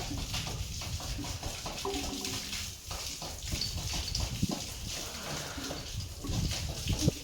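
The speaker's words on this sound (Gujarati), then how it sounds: "તબેલો ધોવે હે" Water splashes and sloshes across a cattle stable floor in uneven bursts as it is washed out, with scraping and clattering, fairly close, under a steady background hum.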